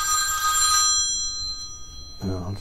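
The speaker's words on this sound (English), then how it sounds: "That'd be the phone." A telephone rings loudly at a school, its bright electronic tone filling the first second before decaying, and a voice begins speaking near the end.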